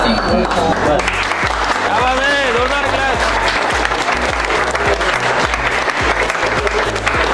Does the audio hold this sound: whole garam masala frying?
no